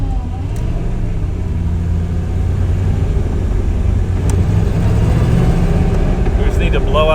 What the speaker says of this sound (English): that was a bit of a lean misfire